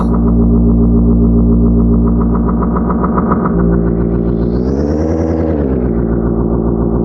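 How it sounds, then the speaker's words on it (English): Loud sustained synthesizer tones with heavy reverb tails, a droning chord that shifts partway and swells into a brighter, wavering pitch bend. "The reverb you're hearing is part of the unit."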